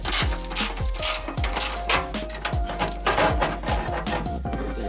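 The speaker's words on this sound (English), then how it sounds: "Start off by removing this oil drain plug cover." Plastic oil drain plug cover being pried off and handled beneath a car, a close run of rapid clicks, taps and ratcheting plastic snaps with busy mechanical clatter throughout, no talking.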